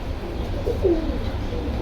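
Soft, low pigeon coos from high-flyer pigeons rise briefly near the middle, a couple of murmuring calls over a steady low background hum.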